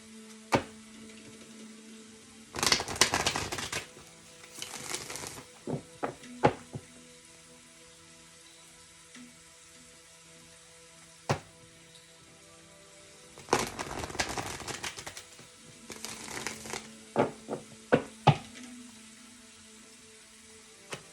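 Two bursts of crisp riffling as tarot cards are shuffled, each a couple of seconds long, spaced apart. Between them come scattered soft taps and clicks over a low steady hum.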